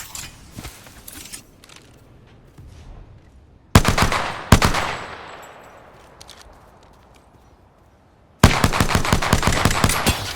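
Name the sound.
gunfire in a video game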